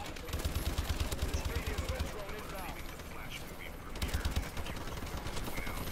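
Rapid automatic gunfire in a first-person shooter game, dense bursts of shots rattling in two clusters with a steady background of game noise, while a player talks over it.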